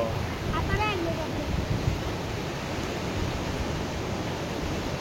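Rough sea waves crash and roar as a dense, continuous wash of surf with wind buffeting the microphone, a brief birdlike chirp near the start.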